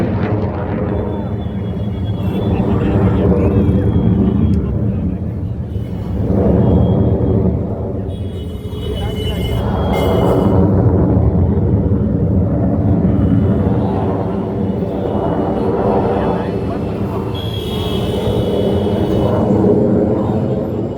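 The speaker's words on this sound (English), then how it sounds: "you will soon see the Rafale aircraft coming back on the saluting days, forming the vertical Charlie" Rafale fighter jets roar overhead during a Republic Day Parade flypast rehearsal, a loud, sustained broadband rumble that swells and fades in waves across the whole stretch, with possible crowd or voice sounds mixed underneath.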